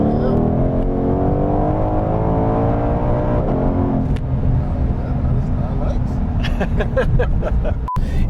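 A 2021 Shelby GT500 Mustang, 760 horsepower, drones loudly and steadily from inside the cabin while driving, its engine note rising in pitch before settling, with people talking over it.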